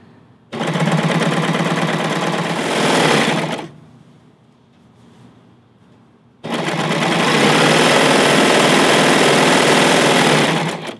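A Baby Lock serger stitches sheer fabric in two loud, fast, continuous whirring runs, each lasting a few seconds. The machine is very close, with a short quiet pause between the two bursts.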